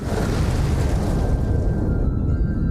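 A loud, sustained explosion roars continuously with dense low rumble throughout, easing slightly toward the end, with no voices present.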